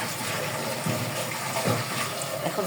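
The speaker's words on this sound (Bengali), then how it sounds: "মশলা কষানো হয়ে গেছে, এখন পরিমাণ মতো পানি দিয়ে দেবো।" Water poured into spiced, sautéed curry masala for an egg poach korma gives a close, steady splashing pour that lasts a few seconds with small gurgling surges.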